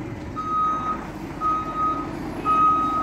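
A truck lined up at a workshop sounds its reversing alarm: three evenly spaced, thin electronic beeps over a low engine rumble, fairly faint and at a distance.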